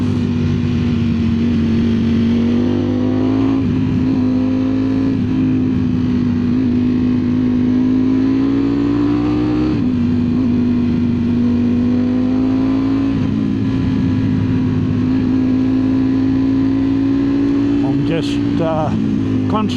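A Ducati Streetfighter V4S motorcycle engine holds a steady, loud, close drone throughout the ride on a mossy roadside route, with small shifts in pitch as the throttle changes and wind noise underneath.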